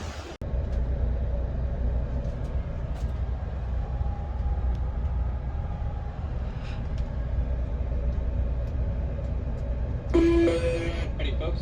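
A passenger train pulls into a station with a steady, loud low rumble throughout and a brief harsher burst of clatter near the end.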